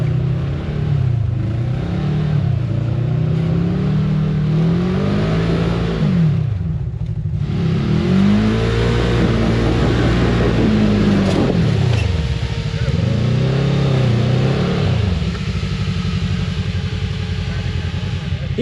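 A UTV engine on a studded-tire icy winter trail revs hard and steadily for the whole stretch, its pitch climbing and dipping in repeated surges as the machine claws uphill, loud and close.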